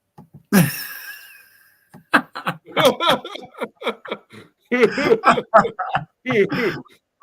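One sharp cough near the start, followed by someone talking in short bursts.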